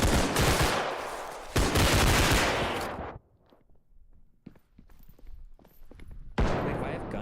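Bursts of loud gunfire crack near the start, with broadband blasts that stop abruptly, followed by quieter scattered clicks and thumps and another burst near the end; the firing stands alone with no talk over it.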